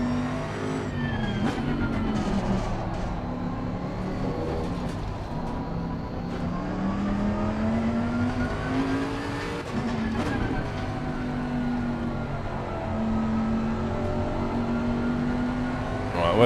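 Race car engine in Assetto Corsa Competizione holding a steady drone through laps. Pitch rises and falls with gear changes and throttle, loud and continuous, with faint talk underneath now and then.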